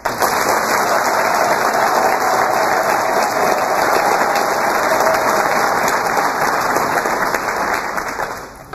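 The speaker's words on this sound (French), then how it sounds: "Je vous demande surtout d'applaudir les partis politiques ici présents." A crowd at a political party congress applauds the political parties present during the inauguration of President Anicet Georges Dologuélé. The clapping is loud, dense and unbroken for about eight seconds before tapering slightly at the end.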